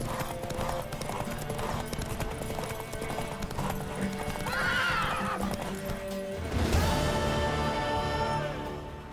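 Rapid hoofbeats clatter steadily as a mare gallops in a race in the video game The Witcher 3: Wild Hunt, then a loud, shrill neigh rings out near the end over a busy background.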